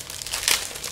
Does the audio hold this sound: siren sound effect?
no